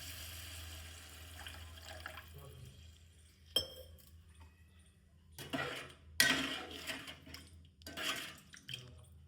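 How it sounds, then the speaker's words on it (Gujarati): Water poured into a pan of potato curry cooked village style, making two short splashing bursts with a few light clinks in a quiet kitchen. "પાણી એડ કરીશું."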